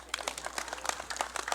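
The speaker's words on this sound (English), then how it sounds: "You can clap for your parents." A graduation audience applauds the graduates' parents at a Maui school ceremony, a steady patter of many hands clapping in a room, moderately loud with no voices over it.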